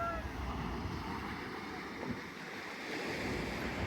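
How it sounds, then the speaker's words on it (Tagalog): Strong ocean surf breaking on the beach at Long Branch with a lifeguard stand nearby, a steady broadband wash of waves with wind noise buffeting the microphone throughout. "Lakas ng alon dun, oh."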